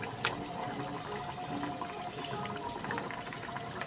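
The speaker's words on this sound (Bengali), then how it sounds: "তেল পুরো আমার গরম, গ্যাসটাকে আমি সিম করে দিলাম। এবার আস্তে করে তেলে ছেড়ে দেবো।" Naan dough is eased into hot frying oil with the gas turned down to a simmer, giving a steady, soft bubbling sizzle with a faint crackle that runs evenly throughout, with no voices.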